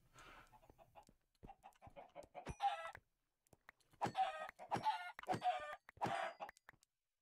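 Chickens clucking and squawking in a video game, several loud bursts of clucks and crowing-like calls with short gaps between them.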